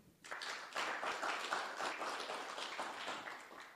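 Steady applause from a conference audience, many hands clapping together at close range, sustained and fairly loud for the whole stretch.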